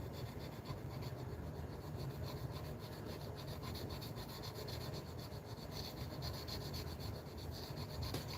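A blade being sharpened to knock off its burr gives a steady, close rasping rub that runs without pause, an even scraping friction with no voices over it.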